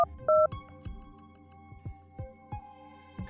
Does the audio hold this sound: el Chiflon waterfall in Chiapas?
no